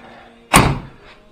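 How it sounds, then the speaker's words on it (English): A single door thuds shut nearby, a short solid knock with a brief rattling tail, against a quiet room. "Shut the door."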